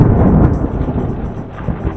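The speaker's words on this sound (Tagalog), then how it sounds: "ang nakabibinging kulog nito sa kalangitan na halos magkasabay" A very near lightning strike followed almost at once by a loud, deafening thunderclap, a heavy low rumble rolling and fading unevenly over two seconds.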